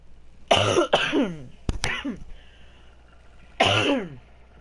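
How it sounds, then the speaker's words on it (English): A man coughs and clears his throat in separate loud, close bursts: a double hack, then a pair of sharp quick coughs, then one final throaty cough after a short quiet gap. "Let me not hack and cough in there."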